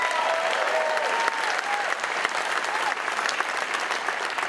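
Loud, steady applause with some cheering from an audience greeting the mayor of Kauai at a county address, dense clapping throughout with brief whistles and a few voices mixed in.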